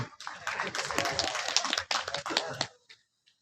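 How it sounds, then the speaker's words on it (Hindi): Applause for a speaker at a national tribal training camp in Ambikapur, Surguja: a close burst of hand clapping lasting under three seconds, uneven and fading out at the end. "टेकाम सर के लिए ताली तो होनी चाहिए।"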